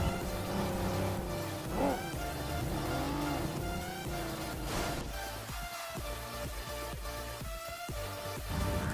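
A car in the BGMI battle-royale game drives with a loud, close engine note that rises and falls as it revs, with tire noise and shifting pitch throughout and no talk over it.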